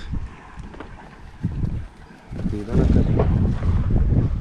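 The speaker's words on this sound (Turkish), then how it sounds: "Rüzgar çok." Gusty wind buffets the microphone in a steady low rumble, with people talking and laughing over it outdoors near water while fishing.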